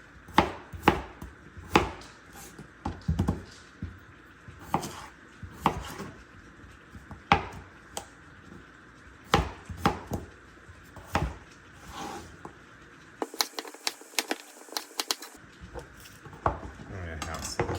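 Potatoes are being chopped with a knife on a cutting board for a pork stew, making sharp, irregular chopping knocks with occasional clinks of utensils in a quiet kitchen.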